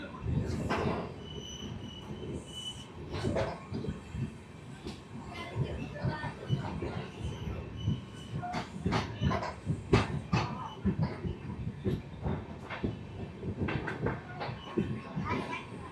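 The Silchar Agartala Express, a passenger train, pulls out of a small two-platform station in Assam, its wheels and carriages rumbling steadily with occasional squeals and clanks, while voices talk over it.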